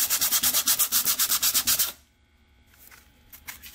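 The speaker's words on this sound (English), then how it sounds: "take some 60 grit sandpaper and I'm going to rough up this outer layer" Sheets of 60 grit sandpaper rub the outer paint layer on a glass fish tank in fast rhythmic strokes, loud and close, then stop, leaving faint scuffs and room noise.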